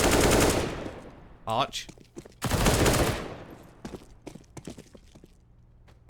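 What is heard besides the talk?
gunfire in the video game Counter-Strike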